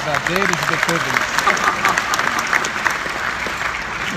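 Loud applause from a corporate audience at an interactive orchestra-style event, dense continuous clapping with voices calling out over it early on.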